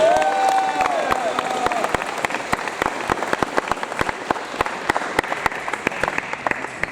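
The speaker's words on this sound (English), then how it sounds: "a big round of applause because he deserves it" Applause at the RDF Award Ceremony 2021: a crowd claps in a steady, fairly even rhythm, close and moderately loud, with faint cheering and a brief tonal voice at the start.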